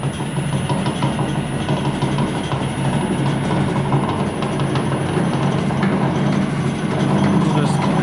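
An industrial machine motor runs steadily on a VFD after being sped up, with a dense, constant mechanical drone and a faint, slightly irregular knock from the belt, loud and close in a home shop.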